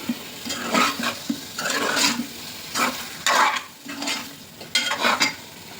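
Mint and coriander being stirred into a paneer and egg biryani in a pot: a spoon scrapes and clinks in repeated bursts over a soft, steady sizzle, up close.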